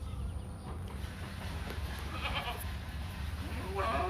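Goats bleating on a goat farm, a few faint calls rising over soft ambient farm noise, with the clearest bleat near the end.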